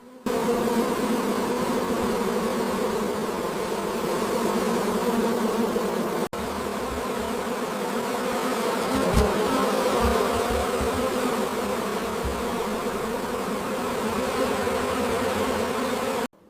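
A dense, constant drone of many honeybees buzzing together around hives at a bee farm, loud and close, with no voices.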